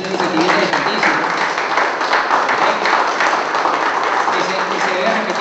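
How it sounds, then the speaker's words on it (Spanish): Applause for Willy Díaz, producer of a Venezuelan jazz history program, fills the room as a steady, dense wash of clapping with voices mixed in. "quiero pedir un aplauso para el señor Willy Díaz"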